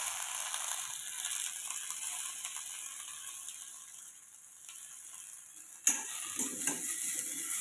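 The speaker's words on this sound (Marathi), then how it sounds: "तर ही आपण कडवंची सुरुवातीला भाजून घेऊया." Spiny gourd frying in oil in an iron wok, with a faint, steady hiss and a sharp scrape or clatter near the end followed by light stirring.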